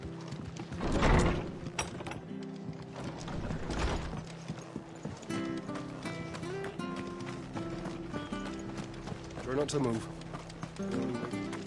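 Hooves clip-clop in a steady rhythm over a game-style music bed, with a short spoken line and some mechanical clatter, from a horse in the video game Final Fantasy XVI.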